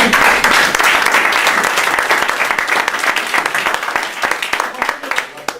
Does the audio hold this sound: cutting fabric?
no